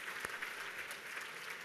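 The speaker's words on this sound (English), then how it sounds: "And she deserves those applause." Audience clapping at a grant luncheon, steady and faint, a distant even patter of many hands with no voices over it.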